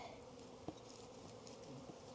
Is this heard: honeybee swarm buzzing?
yes